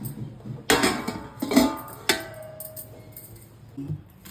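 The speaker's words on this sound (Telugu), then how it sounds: "నేను ఇలా మూత పెట్టి" A metal lid clanks onto a pot of gongura (sorrel leaf) curry with a few sharp clinks and a ringing tone, followed by quieter rattles.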